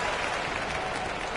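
A basketball arena crowd in the NBA 2K26 video game applauds in a dense, steady roar of clapping and cheering that stays loud and unbroken throughout.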